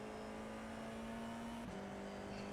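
Race car engine drones steadily in a sim racing game at Donington Park, its pitch dipping and shifting partway through as a car exits the pits, with constant mid-level engine tone throughout.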